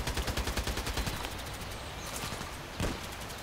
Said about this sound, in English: I'm still shooting